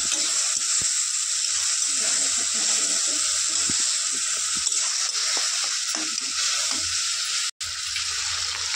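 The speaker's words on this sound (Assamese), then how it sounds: "কিছু সময় এনেকৈ লৰাই থাকি" Food sizzles in a hot pan as it is stirred with salt and colour powder, a steady frying hiss with soft scraping strokes throughout and a brief break near the end.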